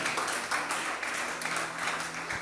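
A church congregation claps and applauds, with steady, moderately loud, dense clapping throughout and a faint voice underneath.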